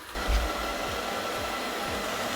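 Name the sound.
ILIFE V5s Pro robot vacuum starting to clean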